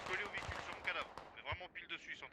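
Mortar and gunfire in a military shooter match, several punchy thumps and rattling shots scattered beneath a voice talking over the action.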